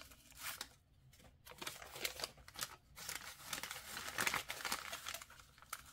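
A paper bag being torn up by hand to make a journaling card, a quiet close series of crinkling rips and rustles in short bursts with no speech.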